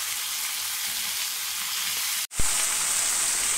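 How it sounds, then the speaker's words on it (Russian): Potatoes tossed into a pan of vegetables sizzle over high heat for a vegetable and meat stew; a steady, close frying hiss briefly cuts out, then returns louder as they hit the oil. "Отправляем сюда картошку и даем ей обжариться буквально 5 минут."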